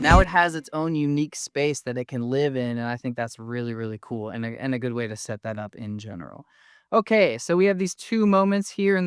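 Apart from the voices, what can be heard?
None of the usual background noises is heard.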